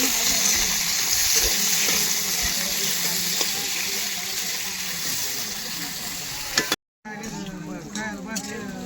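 Potatoes frying in oil for sabudana khichdi, a dense, continuous sizzle with occasional stirring, close and loud, briefly cut off near the end before the crackle resumes.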